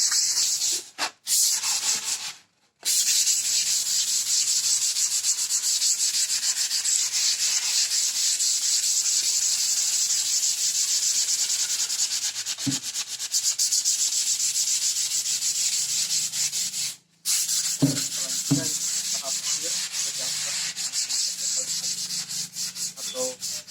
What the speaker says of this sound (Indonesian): finishing untuk menghaluskan itu menggunakan amplas dengan ukuran 240